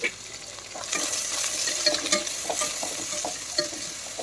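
Chopped small onions with mustard seeds sizzle in hot oil in a pan for chicken curry, a steady bright frying hiss broken by repeated close scraping stirs.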